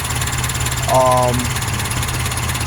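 A Nissan 720 pickup with a swapped Weber DGAV 32/36 carburetor idling steadily and close, a low even rumble that runs throughout while a voice briefly speaks over it.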